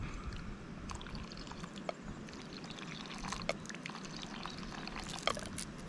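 Water is poured into a cooking pot to make noodles at home, a soft steady trickle close by with faint clinks and no speech.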